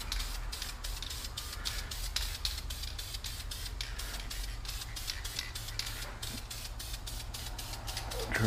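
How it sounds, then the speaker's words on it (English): Spray can laying down a third and final clear coat on painted wheels, a steady continuous hiss running the whole time over a low background hum, fairly close and even in level. "So there's the third and final coat going on now."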